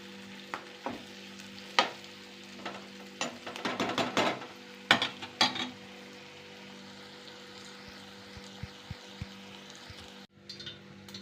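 Mustard seeds and cumin crackle in hot oil for a Gujarati dish, with sharp popping bursts that cluster thickly early on, then thin to scattered pops over a low steady hum.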